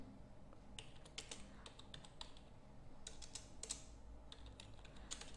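Fingers type a command on a computer keyboard during a Puppet server install, a steady run of quiet, close key clicks in short bursts with brief pauses between them.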